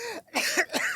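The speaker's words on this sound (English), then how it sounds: "and then there's coughing" A podcast soundboard plays a coughing sound effect made of a few quick, rough coughs lasting about a second, with no talking over it.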